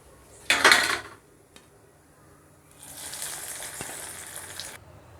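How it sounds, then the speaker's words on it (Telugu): Onion rings deep frying in hot oil for crispy onion rings: a loud, close sizzling burst, a quiet pause, then a longer, steady crackle of bubbling oil. "ఇంకా మిగిలిన రింగ్స్ అన్నీ అలానే ఫ్రై చేసుకోవాలి."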